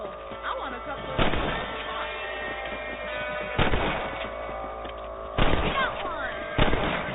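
Rifle shots at rabbits in Red Dead Redemption, four loud sharp cracks spaced a second or two apart, ringing out over outdoor ambience, with someone speaking briefly between shots.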